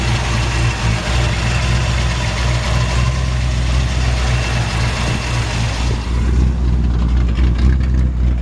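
A 1948 Ford F1 truck engine idles with no mufflers, a steady, loud, deep rumble with a slight uneven throb that holds for the whole stretch.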